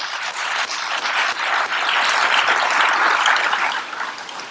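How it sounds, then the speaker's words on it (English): Steady, dense applause from an audience at a 2019 awards ceremony, filling the room evenly at a loud level for the whole stretch with no voices over it. "Round of applause for them."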